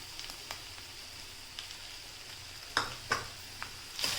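Spatula scraping and stirring in a pan as grated fresh coconut is mixed into a monsoon wild vegetable (kantoli), with soft sizzling underneath and several sharper scrape clicks near the end.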